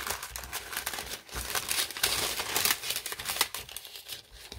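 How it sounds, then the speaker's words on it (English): Parchment paper crinkling steadily as it is handled and folded into a translucent envelope, a dense, continuous rustle with sharp crackles, close up and with no talking. "I'm sorry for all the crinkly noises, but you know, that's what you get with parchment paper."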